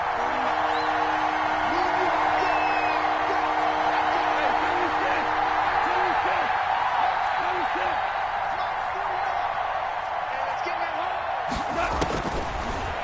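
Crowd in an American football video game roars steadily through the stadium ahead of a big third-down play, a loud continuous wash of cheering with occasional thumps, and a sharper burst near the end.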